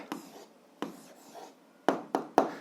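Pen on paper writing out an answer to an algebra exercise: a handful of soft scratchy strokes, close and quiet, with a few sharper taps near the end and no talk.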